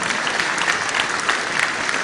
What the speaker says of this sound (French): Bravo, vous pouvez l'applaudir.